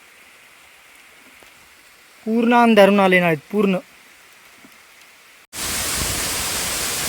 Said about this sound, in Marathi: तुफानी पाऊस आलाय.